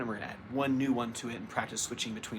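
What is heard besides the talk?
No everyday noises stand out.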